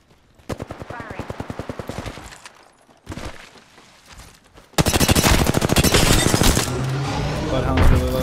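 Gunfire in the video game Apex Legends: a quick string of evenly spaced shots, a pause, then a loud, dense stretch of rapid fire and explosions, with a player talking over parts of it.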